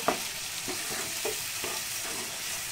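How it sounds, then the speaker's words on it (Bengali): Potatoes tossed with turmeric, sugar and spices in a frying pan for a Bengali cauliflower and peas curry, a constant loud sizzle with a few soft spatula scrapes at a slow, even pace. "ভালো করে মশলার সাথে আলুগুলোকে মিশিয়ে নিচ্ছি"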